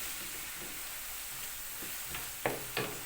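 Minced meat fried well in a pan gives a faint steady sizzle, with a few sharp scraping stirs near the end and no talk over it.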